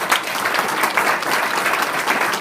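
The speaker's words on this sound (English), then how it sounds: "So I would say a little round of applause" An audience applauds lifesaving award recipients, a steady, dense round of clapping from a room of people that holds evenly throughout.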